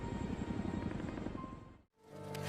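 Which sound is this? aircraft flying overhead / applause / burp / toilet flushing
aircraft flying overhead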